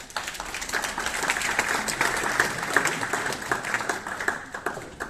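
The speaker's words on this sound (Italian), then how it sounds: "Per cui a ogni nome che chiamiamo vi prego di fare un applauso." Audience applause at a rowing club's 30th anniversary ceremony, steady clapping from a gathered crowd lasting several seconds at moderate distance.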